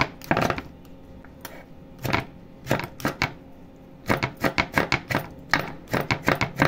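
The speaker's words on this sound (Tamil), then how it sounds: "தக்காளி பொடியாக நறுக்கிக்கலாங்க." A knife chops tomatoes finely on a cutting board, sharp knocks landing in irregular bursts of several strokes, close and clear with no talking.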